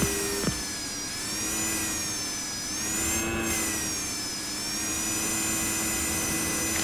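Helicopter engine in a video game, a steady turbine whine with rotor drone that rises and falls gently in pitch, with a brief knock near the start and no talking.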